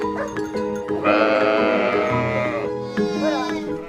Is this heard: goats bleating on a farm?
yes